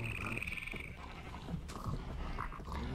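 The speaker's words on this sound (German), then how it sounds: "Ich höre hier nachts, wie die Schweine grunzen" Pigs grunting and snorting at night in Minecraft in a steady farmyard chorus, with higher bleat-like calls mixed in over a continuous background hum.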